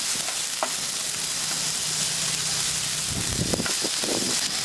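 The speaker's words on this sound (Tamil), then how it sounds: "இதில் ஒரு 2 பெரிய வெங்காயம் வதக்கிக்கலாம்." Two large onions sautéing in a pan, a steady close sizzle and hiss with occasional stirring scrapes and clinks, no talk.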